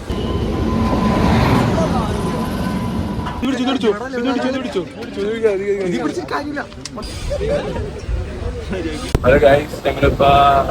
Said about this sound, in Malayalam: ഇപ്പൊ ട്രെയിൻ വരും